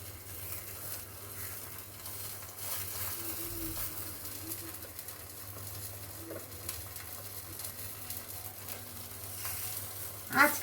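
Dough pieces deep-frying in oil over a low flame give a faint, steady sizzle with soft patter throughout, with a low hum beneath and a louder clatter right at the end.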